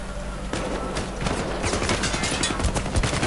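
Enemy gunfire in the PC game Syndicate, with rain falling outside: dense, rapid bursts of shots crackle loudly and nearly continuously across the whole moment, with no pause between volleys.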